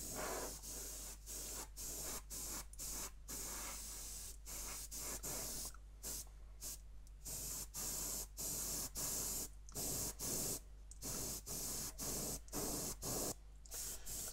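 Repeated bursts of airbrush or aerosol spray on the underside of a 1/72 Airfix Avro Vulcan B.2 model, short hissing passes separated by brief pauses, close and steady, with no talk.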